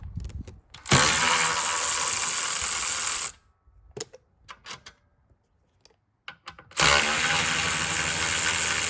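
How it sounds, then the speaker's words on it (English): A power tool, probably an impact driver or drill, undoes a 13 mm bolt on a seat bracket. It makes two loud, sustained whirring bursts, and between them come quieter clicks and handling noises. "I'm going to need to unbolt this bracket, and it's a 13 millimeter."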